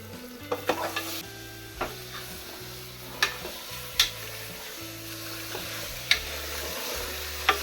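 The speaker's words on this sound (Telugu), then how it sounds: "ఇప్పుడు మంచిగా కట్ చేసి పెట్టుకున్న మటన్ని వేసేద్దాం" Cut mutton pieces frying in oil with turmeric, a steady sizzle broken by repeated scraping and stirring strokes and occasional sharp clinks of a spoon against the pan, close and moderately loud.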